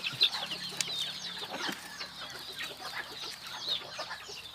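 Bantam chickens clucking inside a backyard coop, with several overlapping soft clucks and chirps continuing steadily at moderate distance, no voices.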